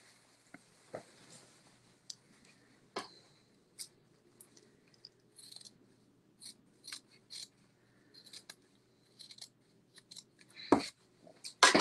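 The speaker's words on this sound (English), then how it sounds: "Trim off the excess fabric there so that it's straight." Fabric scissors trimming excess fabric from the bottom of a kimono band, heard as close, crisp, irregular snips scattered over near silence, with a cluster of louder cuts toward the end.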